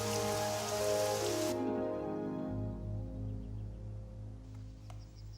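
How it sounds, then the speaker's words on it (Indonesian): Rain comes down after a long dry spell, first as a bright, steady hiss that then drops away. Soft sustained tones carry on underneath the quieter patter. "Sudah lama kering, sekarang hujan."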